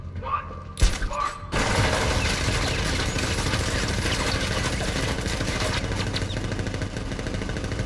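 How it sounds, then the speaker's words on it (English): Sentry gun turrets in the Batman Arkham Knight video game open fire after a brief pause, becoming a sustained, dense roar of rapid automatic gunfire with engine-like rumble that keeps up loud and steady. "Activate sentry guns on my mark."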